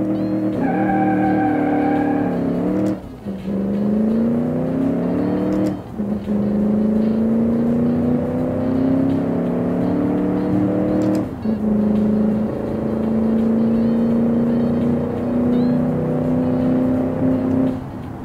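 A Melvin Lone Star in the Automation car game accelerates hard down a quarter-mile strip, its engine note climbing steadily, with a few sharp gear changes breaking the rising drone; loud, close and continuous, with no talking.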